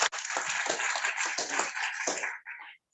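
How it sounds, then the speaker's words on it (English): An audience at a World Soil Day celebration gives a round of applause, a dense wash of clapping that holds steady for over two seconds before cutting off into near silence. "A round of applause for him once again."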